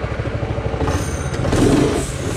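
A vintage track go-kart with a Predator 212 engine runs steadily and close by, its low, throbbing rhythm swelling slightly louder toward the end with no talk over it.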